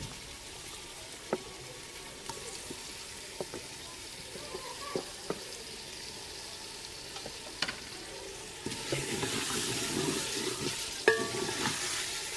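Chicken nihari with chopped tomatoes, ginger and garlic fries steadily in oil, a continuous close sizzle with occasional stirring clicks, growing louder and fuller toward the end.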